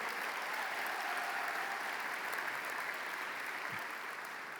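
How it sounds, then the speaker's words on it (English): A large arena crowd applauds steadily at a high school commencement ceremony, a dense, even wash of clapping that carries on for several seconds at a constant level. "Give your principal a big round of applause if you would."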